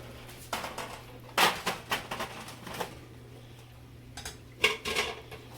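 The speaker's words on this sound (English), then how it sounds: "we're going to transfer our potatoes into our pan." Strained potatoes are moved into a pan with a utensil, producing irregular scrapes, clatters and light metallic clinks, some sharper than others, close and fairly quiet.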